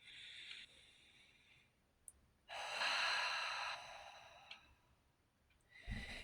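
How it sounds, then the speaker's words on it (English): Deep, slow diaphragmatic breaths, a long airy inhale or exhale followed by softer breathy passages, close and quiet with no talking. "So nice deep breaths from your diaphragm."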